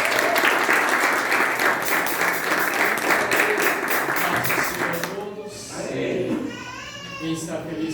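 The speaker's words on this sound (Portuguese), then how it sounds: "Mais palmas para Jesus" Loud, dense applause from a church congregation during a Sunday service for about five seconds, then tapering off as a voice speaks over the remaining scattered claps.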